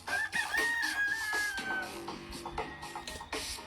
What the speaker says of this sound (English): apologies about the rooster in the background there